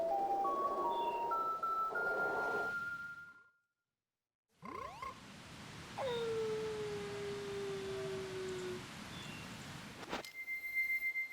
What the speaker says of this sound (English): Did you guys hear that howling sound?